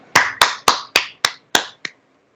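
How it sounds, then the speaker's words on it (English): Seven sharp, evenly spaced claps in quick succession, close and crisp, fading out after a final lighter clap — sparse applause offered for Dr. Arpita at an online webinar. "I request everyone to give a big round of applause to Dr."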